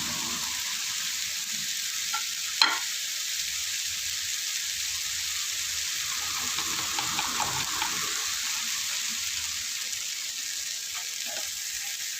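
Water poured into a hot frying pan holding an omelette-style fried egg dish sets off a loud, steady hiss and sizzle that runs unbroken throughout, with a single sharp clink early on.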